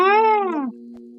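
A single cat meow from a video game, loud and close, sliding down in pitch over about half a second and then giving way to a steady, even electronic tone. No one talks.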